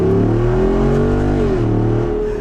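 A 2024 Jeep Wrangler 392's engine revs up hard through an open performance exhaust, its note climbing in pitch, briefly dipping as it shifts, then pulling again; close and continuous.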